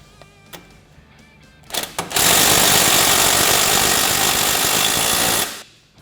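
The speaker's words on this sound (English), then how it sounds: "I like to get a 19 wrench and a 19 socket. And we're going to fully tighten our hardware." An impact or power tool with a 19 socket tightens the tie rod hardware on a Polaris RZR Trail 900, firing a loud, harsh rattling burst for about three seconds after a couple of short blips, then stopping.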